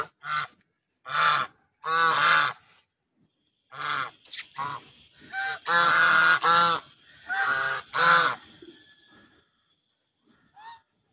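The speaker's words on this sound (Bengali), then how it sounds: "হাঁসের গোল মিটিং।" Domestic ducks or geese gathered in a Noakhali village yard give loud, nasal honking calls in uneven bursts, several birds overlapping close by, with short quiet gaps between the clamour.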